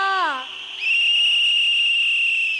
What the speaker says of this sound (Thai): ถ้าเห็นด้วย ยกนกหวีดขึ้นมาเป่าหน่อยนะครับ เป่านกหวีดหน่อยค่ะ